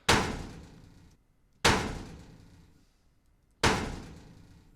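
Raw, unprocessed game sound-effect sample, a thumpy impact with a slight rattle, played three times in evenly spaced hits, each sharp attack fading into a short decay, close and alone.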